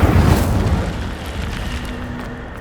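The Incendio fire spell cast in Hogwarts Legacy, a loud roaring burst of flame that starts strong and then slowly fades into a crackling rumble, with no voices over it.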